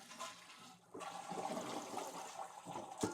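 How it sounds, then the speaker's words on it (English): A home toilet flushes with a rushing gush of water that swirls and drains, close and steady, ending with a sharp clunk. "We're going to flush it"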